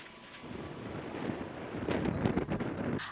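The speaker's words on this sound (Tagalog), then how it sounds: "mabatyaga na ang kakusog sa huros sa hangin ug kadagko sa bawd sa may Cordova Port" Strong gusting wind buffets the microphone at a stormy seaport in Cordova, with big waves churning; a broad, rough roar builds louder toward the end, with no voices.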